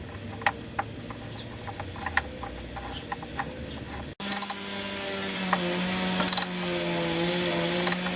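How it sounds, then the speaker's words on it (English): On a Toyota Camry transmission drain pan, a bolt is threaded back in and tightened: sparse light metallic clicks and taps, then a sharp shift to a louder, closer ratcheting and rubbing with a steady hum behind it. "Once most of the fluid has drained out, I'm going to go ahead and replace the drain pan bolt."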